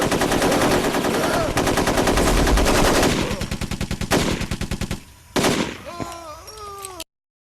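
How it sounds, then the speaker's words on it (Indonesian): Gunfire rings out in an Indian television drama scene, starting with dense, loud automatic bursts, then a slower train of evenly spaced shots, then a few separate cracks and a brief tonal sweep at the end. "Pique yang tahu itu adalah Bayrapa, kemudian mencoba untuk menembaknya, tapi malah dia yang ditembak sampai mampus"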